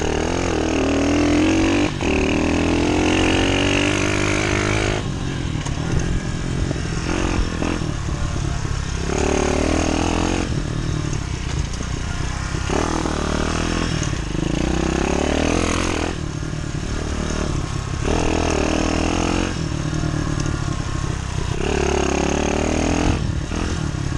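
A Demon DXR 125 pit bike rides around a track, its small engine revving up and down continuously with rising and falling pitch as it accelerates and shifts. Loud and close throughout, with no talking.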